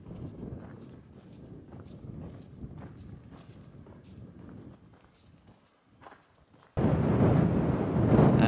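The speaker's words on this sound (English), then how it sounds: "There's a storm coming, blowing over this ridge right next to me." Storm wind gusting over a mountain ridge on the Continental Divide, a steady low rumbling roar of gusts that grows suddenly louder and heavier near the end, with scattered crunching footsteps.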